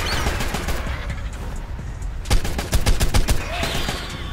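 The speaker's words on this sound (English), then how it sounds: "Just shoot the gun." Game gunfire rattles in rapid bursts and volleys in Ark Survival Evolved Mobile during a dungeon fight. Background game sounds come first, and the shots grow denser and louder in the second half.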